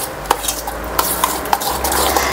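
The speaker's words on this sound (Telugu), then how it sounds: "దీన్ని బాగా మిక్స్ చేసుకోండి" Homemade curd being stirred into baby food with a utensil, giving soft scraping and a few sharp clinks against the bowl at irregular intervals over a low steady hum.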